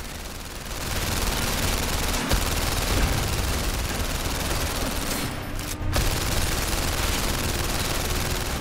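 Sustained automatic gunfire in the London Heist game from PlayStation VR Worlds, a dense continuous rattle of shots with a couple of brief pauses and almost no talking.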